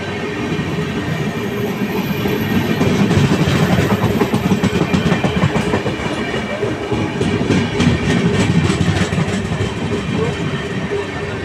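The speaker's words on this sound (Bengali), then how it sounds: "8-এ মুম্বাই মেল আসছে, মুম্বাই যাওয়ার ট্রেন।" The Mumbai Mail passenger train rolls past near Kharagpur, a steady loud roar of wheels with rhythmic clickety-clack over rail joints sustained throughout, close and continuous.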